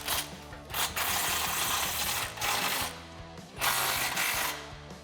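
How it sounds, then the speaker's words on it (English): A socket wrench tightens 13 mm exhaust bolts on a 2017–2019 F150 Raptor Borla ATAK mid-section muffler assembly with X-pipe, giving bursts of close, rapid ratcheting clicks broken by short pauses. "now let's grab our socket and tighten these guys down"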